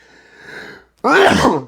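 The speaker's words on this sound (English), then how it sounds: "I gotta sneeze." A single loud, close human sneeze bursts out after a soft sharp inhale, heard alone with no talk over it.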